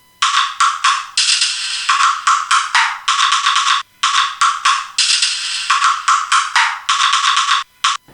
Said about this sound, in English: It's like this plastic type percussion loopy thing that I made.